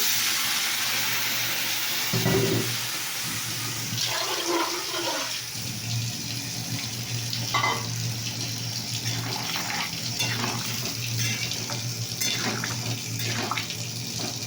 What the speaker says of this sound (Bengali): আমার তরকারি রেসিপিটা জল মরে গেছে, জল দিলাম